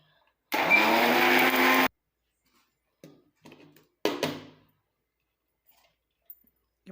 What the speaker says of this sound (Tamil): பாருங்கள் இந்த மாதிரி வந்து அரைக்கணும் இந்த மாதிரி நைஸாக அரைச்சா தான்